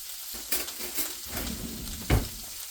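Cabbage softening in a pan with diced garlic, a steady close sizzle broken by a few louder stirring scrapes and clatters, with no voices.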